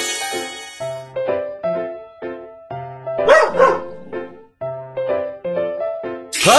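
A cartoon puppy from a BabyBus children's hearing-test game barks in a quick string of bright, yappy calls with short gaps between them, loud and close over a light musical backing.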